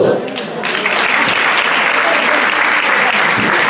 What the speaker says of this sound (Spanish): para la que pido el aplauso